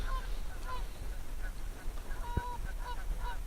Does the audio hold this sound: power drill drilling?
no